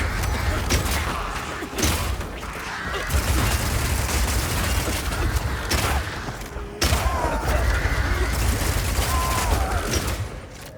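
Rapid Shot crossbow firing in Path of Exile 2, a steady stream of fast, repeated bolt releases with mechanical clatter, loud and continuous over several seconds, with brief pauses between volleys.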